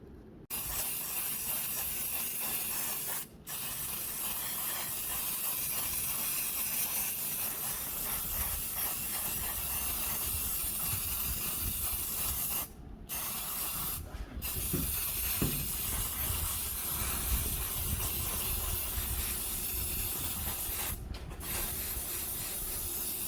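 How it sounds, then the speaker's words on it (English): Long, steady hissing spray paint runs almost continuously, broken by a few brief pauses, close and fairly loud, with no voices, coating the inside of an outdoor HO scale model train tunnel black. "I'm gonna spray paint all of this black on the inside"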